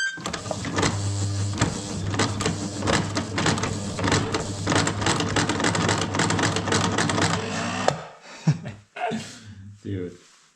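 Electric sewing machine running steadily in a log cabin for about eight seconds, a fast mechanical whir with a low motor hum, then stopping as a few brief voices and clatters follow.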